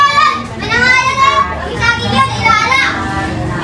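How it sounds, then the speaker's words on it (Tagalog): Noisy children play close by in a rural Philippine province, their chattering, shouting voices overlapping continuously and loudly throughout. "Maingay man to mga bata, di ko tuloy marinig."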